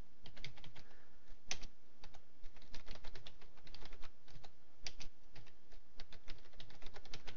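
Steady, rapid typing on a computer keyboard, close and clear, with irregular bursts of key clicks and a few sharper taps throughout, no voices.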